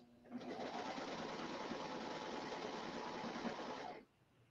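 A Brother Airflow serger runs one continuous stitching burst of about four seconds, starting and stopping cleanly, steady and close with no voices.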